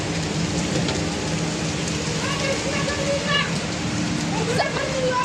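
Steady, fairly loud rainfall pattering on surfaces fills the scene, with scattered voices and sharp chirping calls rising over the downpour.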